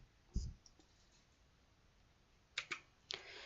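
Mouse clicks on a computer during Excel work: one sharp click early, then a quick pair of clicks and a final click near the end, close and crisp over a quiet background.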